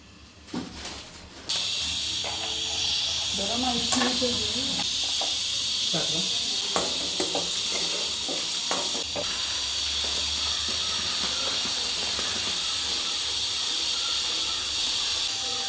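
Food frying in a pan during a home cooking session at a village festival, giving a steady, loud hissing sizzle that runs nearly continuously after a brief quieter start, with faint voices and clatter underneath.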